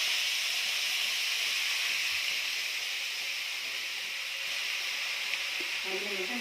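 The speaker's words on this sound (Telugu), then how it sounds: "అదే కడాయిలో నూనె పోసుకున్నా. కొంచెం నూనె పోసుకొని కడిగిన మెంతం ఇలా వేసేసుకున్నాం." Washed fenugreek leaves frying in oil in a kadai give a steady, loud broadband sizzle and hiss that holds evenly throughout, with faint clinks near the end.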